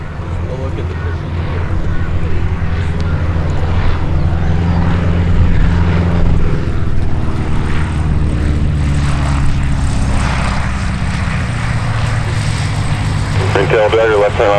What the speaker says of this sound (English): I've got another biplane coming here behind.